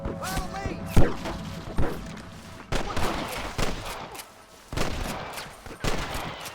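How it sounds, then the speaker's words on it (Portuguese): Gunfire in the video game Red Dead Redemption, a series of sharp shots and volleys, some near and loud, others distant thuds, with someone talking between them. "Tá longe daqui lá o tiro, velho."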